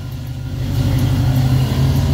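The engine of a 1966 Pontiac Catalina wagon runs in a steady low rumble, close and fairly loud, a continuous even drone with no revving or speech.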